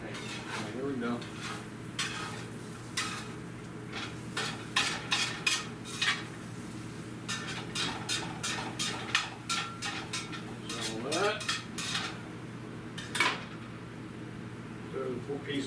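Pots, pans and cutlery clatter in a kitchen while a round pizza pan is hunted for, with repeated close metallic clanks and scrapes in bursts throughout, under occasional talk.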